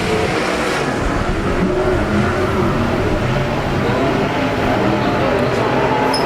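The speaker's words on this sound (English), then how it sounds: "AMSOIL USAC CRA sprint cars. And green flags in the air. We are underway." AMSOIL USAC/CRA sprint cars roar off together at the green-flag start of a heat race on a speedway oval, a dense, loud, continuous engine blare with no break.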